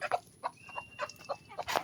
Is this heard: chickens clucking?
yes